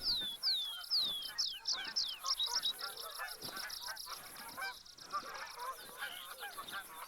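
Geese honk repeatedly in a hunting video game, a busy overlapping run of calls that is loudest early, then thins into scattered honks over a steady ambient bed.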